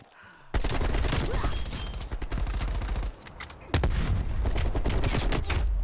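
Rapid bursts of automatic gunfire rattle loudly in Black Ops Cold War, one long sustained volley, a brief pause, then another dense stream of shots, with little else audible.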